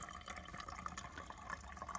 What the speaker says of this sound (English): our bladders that we fill up and then we filter them into water bottles